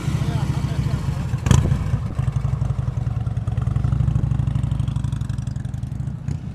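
Motorcycle engine idling and pulsing steadily up close during advanced slow-speed riding practice in North Carolina, with a brief louder burst partway through and a voice talking over it.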